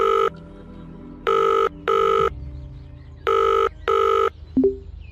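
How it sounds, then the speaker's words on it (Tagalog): A telephone rings in a dramatized story, four clear double-burst rings in a steady pattern, loud and close, followed by a short electronic blip. "Tinawagan ko agad si Gary."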